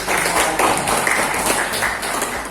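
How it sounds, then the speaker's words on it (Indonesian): Grade 7 students in a classroom clap for a classmate, a steady, close burst of many hands applauding for a couple of seconds. "tepuk tangan buat temanmu yang sudah membacakan"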